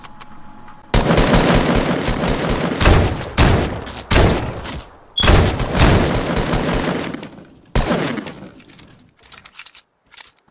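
Loud, close bursts of automatic gunfire in a video game, several rapid volleys broken by short pauses, with a final shorter burst and scattered shots trailing off.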